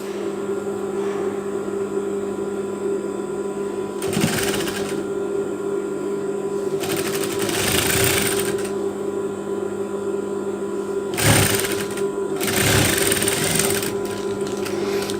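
A sewing machine stitching a tank top runs in bursts close by, short loud whirring runs separated by pauses over a steady low hum, with no talk.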